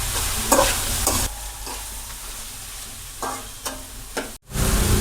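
Soybeans and curry leaves fry in hot oil in a pan, with a steady close sizzle broken by several loud scraping stirs of a spoon against the pan.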